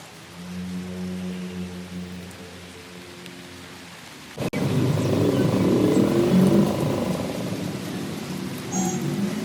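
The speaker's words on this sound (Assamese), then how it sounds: "আমাৰ এইফালে কিন্তু বৰষুণ খুব দি আছে" Heavy rain falls steadily outdoors, starting as a softer wash with a low hum, then abruptly turning to a loud, close, dense downpour for the remaining seconds.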